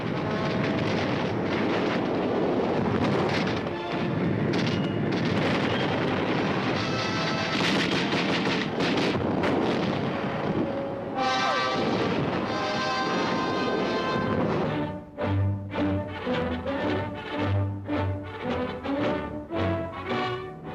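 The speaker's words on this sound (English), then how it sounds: "field artillery units and troops of the 25th Infantry attacked Jap positions in the Lupao and Umingan areas" Field artillery fires in World War II combat on Luzon in the Philippines: a dense, loud wall of booming blasts, then sharper separate reports in a rapid, uneven series near the end, with no voices.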